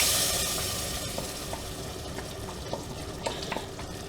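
Thick roux for Louisiana chicken gumbo being stirred in a pot, a dense continuous bubbling hiss with soft scraping strokes of a spoon at irregular intervals.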